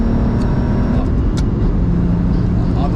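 A 400 BHP BMW 135i with air ride accelerates hard and shifts into fourth gear, its loud, steady engine drone heard from inside the cabin.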